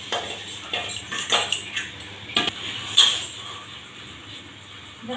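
A pile of dirty dishes, pots and utensils is washed by hand at home, with irregular clinks, clatters and scrapes of metal cutlery and pans knocking together, close and fairly loud.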